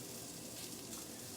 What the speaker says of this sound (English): Got some onions sauteing in here.